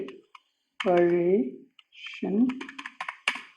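Keys clatter on a computer keyboard as C++ calculator code is typed, with quick irregular clicks that come and go between and under a voice speaking nearby.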